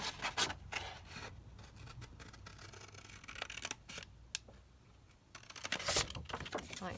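Scissors snipping out a paper banner piece for a junk journal craft, a few short close crisp cuts and rustles spread across a quiet tabletop background.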